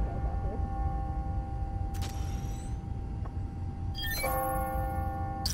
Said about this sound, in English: Ringing on the hour. When I hear those bells